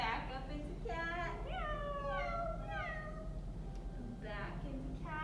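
Children imitating a cat with drawn-out meows during a kids' yoga lesson, several voices calling one after another at a moderate level.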